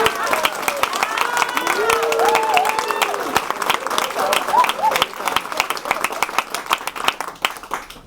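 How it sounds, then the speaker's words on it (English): An audience applauds two legislators at a rent stabilization event in Washington, with sustained crowd clapping and a few cheering voices that thin out toward individual claps at the end. "Another round of applause for the two of them."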